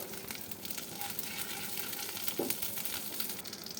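Black cumin seeds sizzle in hot hilsa fish oil in a pan, giving a steady close crackle with brief sharper pops and no talking.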